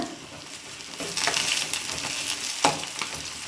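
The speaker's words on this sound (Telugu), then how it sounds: "ఈ చికెన్కి అయితే ఇంక ఉల్లిగడ్డ టమాటా వేసిన" Chicken frying in a pan with onion and tomato, a close steady sizzle with stirring scrapes that grows louder midway, with one sharp clink near the end.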